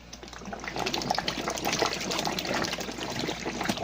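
Water sloshes and churns continuously inside a homemade 5-gallon hand-crank washing machine as clothes are washed, a close, steady splashing with no voices.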